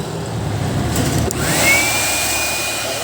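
A powerful air blower roars steadily up close, blowing into an amplifier at maximum force, a whining tone rising in pitch as it spins up to full force.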